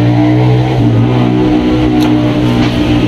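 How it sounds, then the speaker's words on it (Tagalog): Vehicle passing on a highway next to a roadside shop, a loud continuous engine roar with rising revs that fills the whole clip, close by and alone. "Pasensya na, may dumaan na sasakyan. Maingay, nasa highway kasi itong tindahan natin."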